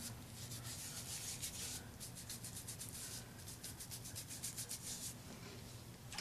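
Textured cleansing pad scrubbing a face, a faint close-up rhythmic rubbing and scratching in quick repeated strokes, with no talking.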